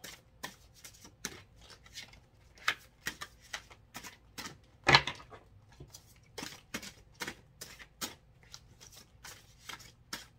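Tarot cards being shuffled by hand, a run of crisp riffling clicks and flicks arriving in irregular bursts, close and clear with no talking.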